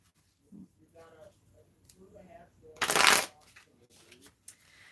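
Tarot cards shuffled by hand give one loud, brief riffling burst in the middle, with quieter voices talking before and after.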